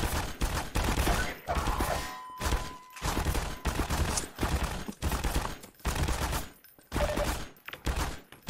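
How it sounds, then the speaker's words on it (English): Rapid bursts of automatic gunfire from the mounted airboat gun in the video game Half-Life 2, loud and close, firing in repeated sustained volleys separated by brief pauses, with no talking. "The airboat gun is easy to use even without mouse movement."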